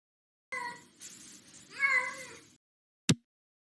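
A cat meows close by in a couple of drawn-out, wavering calls over about two seconds, then a short sharp knock or thump follows after a brief silence.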